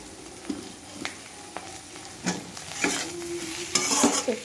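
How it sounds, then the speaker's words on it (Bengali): Fried soybeans and boiled potatoes with spice paste, salt and turmeric are stirred in a frying pan, giving scraping spatula strokes over a steady sizzle that grows louder and busier toward the end. "একটুখানি নেড়ে নেব"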